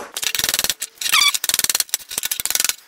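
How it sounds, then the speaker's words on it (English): An aluminum tube bonded without welding is squeezed in a vise, giving rapid bursts of creaking, squeaking strain noise in quick pulses, with one higher squeal midway, close and alone. "we're crushing our tube, but we have not delaminated anywhere"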